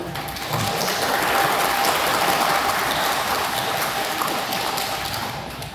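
An audience at a Catholic church retreat breaks into steady applause, dense and continuous for several seconds before tapering slightly at the end.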